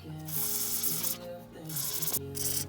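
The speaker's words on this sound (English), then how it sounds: "I was spraying that in there and it was coming out through here" Penetrating fluid aerosol hisses in two or three short bursts, close by, sprayed into a Ford Fiesta ST150 brake assembly, over a faint background hum.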